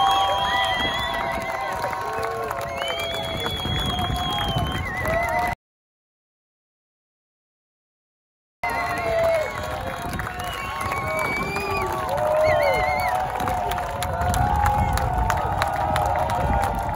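At the Marathon des Sables desert camp, a crowd cheers, whoops and claps for the last runners coming in, lively and sustained, with a short dropout partway through.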